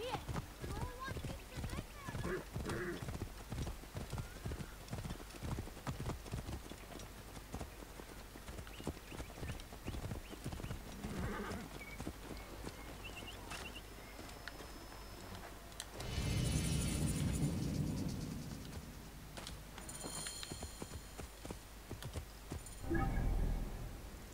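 Horses galloping in Assassin's Creed Origins, a rapid rhythmic clip-clop of hooves through the first half, followed by louder rumbling engine-like swells, with someone talking over the game sounds.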